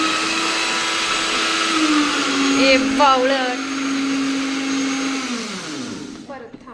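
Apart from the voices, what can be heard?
electric mixer grinder running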